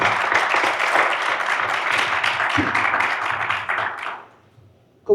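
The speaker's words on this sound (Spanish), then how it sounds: "Les pido tener un aplauso para él." An audience at an urban mobility seminar applauds in a broad, dense wash of clapping that holds for about four seconds, then fades away, with a brief sharp sound at the very end.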